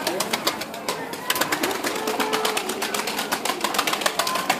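Iraqi Zarq pigeons heard close by, with dense rapid clicking and fluttering and soft cooing tones over a constant background hum.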